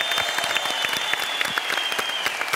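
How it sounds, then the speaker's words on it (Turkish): Studio audience on a Turkish television talk show claps in loud, sustained applause, with sharp individual claps standing out from the dense crowd sound. "bir moral alkışla bütün Mehmetçiklere gönderelim buradan"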